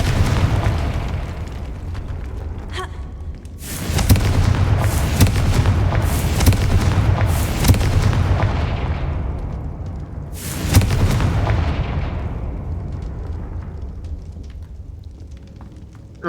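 The Confringo spell in Hogwarts Legacy sets off a series of loud, close booming blasts, several rapid bursts followed by another big explosion, each leaving a rumbling tail.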